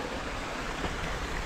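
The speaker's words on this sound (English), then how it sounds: "So that's just a brook and a short culvert going under the" Water from a brook flows through a short culvert beneath a footpath, giving a steady, broad rushing babble that stays constant and close throughout the brief moment, with no talk.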